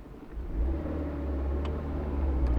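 A 1991 Alfa Romeo Spider's engine rumbles steadily as the throttle is pressed, a low continuous drone that swells slightly, close and moderately loud, with no talking.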